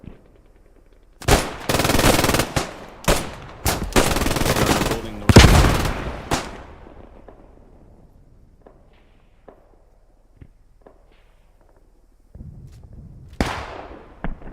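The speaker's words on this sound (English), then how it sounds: "Shot at by a German machine gun." German machine gun fire in the World War II video game Squad 44, loud sustained bursts and rapid volleys over several seconds, then scattered single shots and distant reports trailing off into quiet before a final burst.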